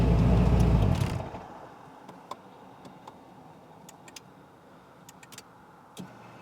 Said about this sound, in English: Let's shut it off and fire back up.